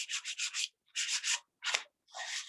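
Sandpaper rubbed by hand over a small assembled model, heard as four bursts of steady scratchy strokes with short pauses between, close and clear, no voices.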